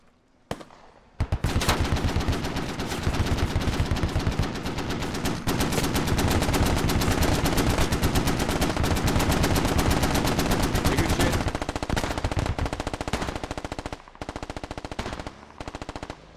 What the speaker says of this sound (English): Both HMGs on the battlefield firing